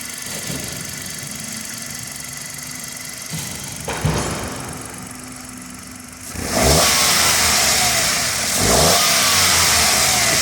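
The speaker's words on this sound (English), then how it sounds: "Just a few revs for you there." A 2016 Hyundai i10 1.0 Blue Drive engine idles, then rises through a few short revs, with a brief blip before a longer, louder climb near the engine that eases back.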